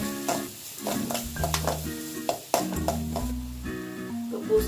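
Turmeric stirred into a frying raw papaya and pumpkin leaf side dish with green chilies, a soft sizzle under repeated clanks and scrapes of a spoon against the pan.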